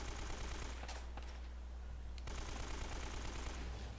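Gunfire in the video game Uncharted: Drake's Fortune, heard as a steady dense rattle of automatic shots with no break through the whole span, faint and sitting in a wash of noise.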